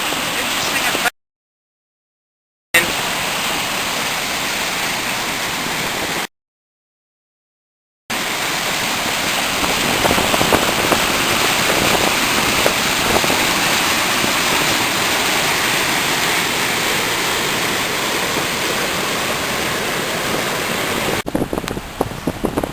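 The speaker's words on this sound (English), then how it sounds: "we're back at the weir at Denton Home, Caldew, and as you can see, the river's rising" Risen river water pouring steadily over the weir on the River Caldew at Denton Holme, a loud, continuous broadband roar heard close by, with two brief gaps where the sound drops out entirely.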